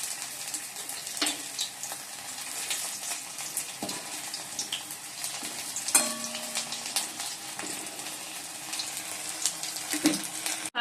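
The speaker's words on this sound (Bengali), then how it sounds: "চলো এই বন্ধুরা বড়াটা ভেজে নিচ্ছি" Cauliflower fritters in gram-flour batter frying in hot oil, a moderate bubbling sizzle with sharp pops, clinks and spatula scrapes scattered throughout, no talking.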